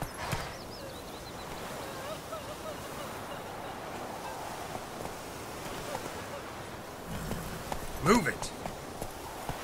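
Roach, a horse in The Witcher III, trots with steady hoof clip-clops under a spoken command and ambient game music, with a sharper hit near the end.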